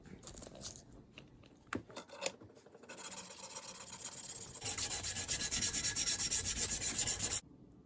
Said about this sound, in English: So I'm just going to sand it until it's good.